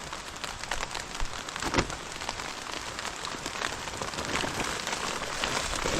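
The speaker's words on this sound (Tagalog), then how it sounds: "Maulan po talaga mga utol." Steady rain pattering on surfaces outdoors on a farm, a dense continuous hiss with scattered louder drops, close and unbroken, with no voices.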